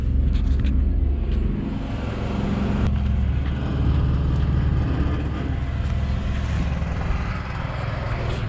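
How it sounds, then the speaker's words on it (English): A 1967 military six-wheel drive water truck idles with its engine running, a steady loud low rumble with slight swells in intensity throughout, nearby and without talk. "She still runs awesome. 1967 military six-wheel drive"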